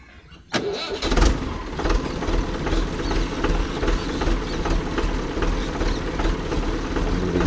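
A Mahindra tractor engine with cage wheels starts up abruptly after a brief quiet moment, then runs steadily with a rough, rumbling, slightly uneven chug close by.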